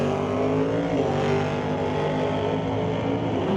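Loud, sustained engine roar from drag race cars launching down the strip, a Stobie Construction Chevelle against a Rad Torch Systems S10, droning steadily without pause.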